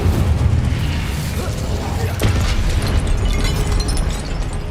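An Incendio fire spell cast in the Hogwarts Legacy video game, a loud, dense roaring burst with a sharp crackling hit midway, set against busy combat noise.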